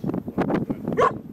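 A dog barks a few times at close range, its sharp yelps mixed with people talking nearby outdoors on a hiking trail near a canyon viewpoint.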